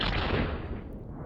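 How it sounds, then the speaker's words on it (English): A cannon firing in BeamNG, a loud booming blast with a broad rumbling decay that fades over about a second, with no voices. "Now that cannon over there, this one's going to fire and miss."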